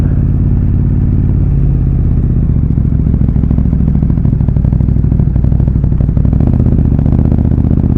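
A KTM Super Duke R motorcycle engine idles loud and close, a steady low throb with light mechanical clatter running throughout.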